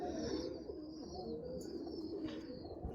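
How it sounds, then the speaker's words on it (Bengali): Pigeons of a good breed coo softly, low rolling calls repeating close by over a quiet background with faint higher chirps; no one speaks. "এই হচ্ছে কবুতর।"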